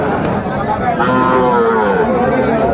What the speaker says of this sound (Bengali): বেশ কিছু গরু কালেকশন করছে